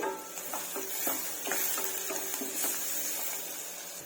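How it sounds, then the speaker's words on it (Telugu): Onion pieces frying in a pan with turmeric and salt, a dense continuous sizzle with light stirring scrapes spread through, close and steady, no talking. "కొద్దిగా ఉప్పు వేసామనుకోండి ఉల్లిగడ్డ ముక్కలు తొందరగా వేగుతాయి"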